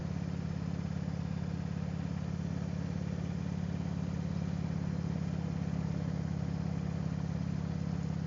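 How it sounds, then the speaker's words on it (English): A 2005 Harley-Davidson Electra Glide Ultra Classic rumbles along on a ride, its low V-twin drone steady and continuous with constant road and wind noise, no talk. "Today I'm riding my 2005 Harley Davidson Electra Glide Ultra Classic"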